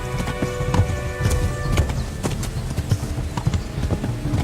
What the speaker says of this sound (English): When riding, you can give your horse its head and it will stick to the path you're on